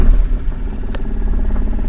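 A Mahindra Supro Maxi pickup truck with an accelerator problem and its engine light on starts up close by, settling into a steady, loud, slightly clattering idle rumble with no talk over it.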